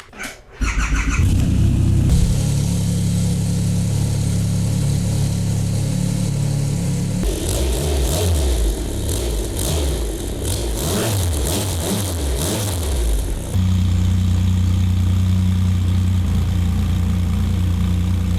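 A Triumph Rocket 3 GT three-cylinder 2500cc motorcycle engine cranks and fires, then idles steadily with a deep, heavy exhaust note and a brief burst of revving in the middle.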